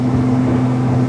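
An outboard engine on an XO EXPLR 9 aluminium boat roars under a brief throttle blast at around 25 knots, a loud steady low drone with no talk over it.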